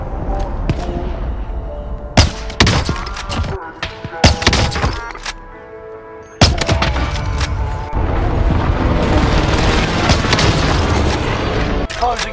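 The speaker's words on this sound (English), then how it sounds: "snipe shots from today's gameplay" Sniper rifle shots in the video game Call of Duty Warzone land as several sharp, loud booms scattered among game sounds and a rumbling background, with an announcer-style voice speaking briefly.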